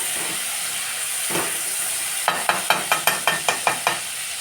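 Cauliflower curry sizzling in hot oil: a steady frying hiss throughout, joined midway by a run of regular stirring scrapes of a spoon in the pan.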